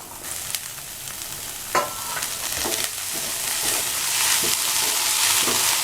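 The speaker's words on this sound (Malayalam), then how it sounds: "ഇനി ഇതിലേക്ക് നമ്മൾ നന്നായി വാഷ് ചെയ്ത് അരിഞ്ഞു വെച്ച ബീൻസ് ചേർക്കാം." Chopped beans tossed into a hot pan for Kerala-style beans thoran, sizzling and frying steadily with scraping stir strokes and a sharp clack near the start, close and continuous without talk.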